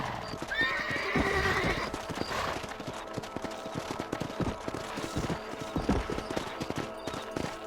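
Horse hooves clip-clop at a run in the Red Dead Redemption video game, with whinnies and neighs over a busy game soundscape, steady rhythmic hoofbeats throughout, close and fairly loud.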